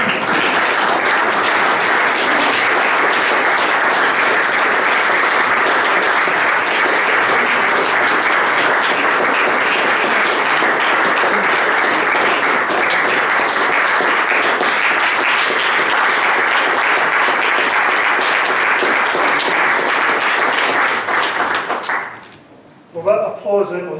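Long, sustained applause from a lecture audience after a talk on Walter Scott and Lord Byron, dense and even for over twenty seconds, then fading abruptly as a speaker begins to talk.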